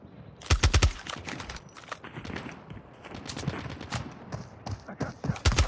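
Call of Duty Mobile gunfire in a Hardpoint match, with sharp bursts of shots at the start and end and scattered pops between, fairly close and in the clear.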